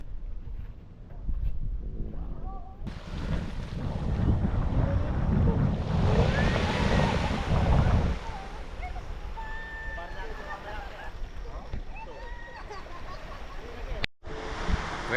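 Sea waves at Patar Beach in Bolinao, a broad rushing surf swelling in the middle before settling into a softer wash, mixed with wind noise on the microphone and people talking.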